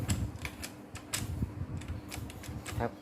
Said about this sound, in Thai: เสียงเฟืองมัน